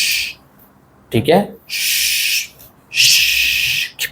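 A voice imitates a shushing sound used to quiet children, several drawn-out hissing shh bursts, close and fairly loud, with a brief spoken word between them.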